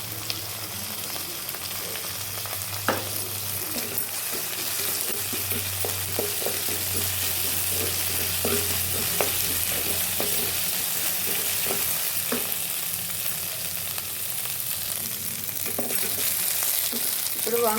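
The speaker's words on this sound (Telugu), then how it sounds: "ఇదండి ఉల్లిపాయలు వేగుతున్నాయి." Onions frying in a pan give a continuous, even sizzle, with scattered light clicks and scrapes from stirring.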